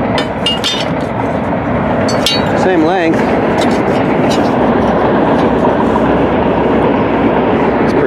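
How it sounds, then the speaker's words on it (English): A fuel train rolls past close by in a loud, continuous rumble with clanking and squeals of metal on the rails, while a voice speaks briefly over it. "there's the fuel train"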